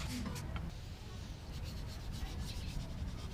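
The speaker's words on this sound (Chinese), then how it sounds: "这样做可以把表面老化变硬的胶条打磨掉，露出里面比较嫩的橡胶" Aged, hardened rubber of a car wiper blade is sanded by hand, wet, to expose softer rubber beneath. It gives a steady, close scraping rub with repeated strokes and no talk.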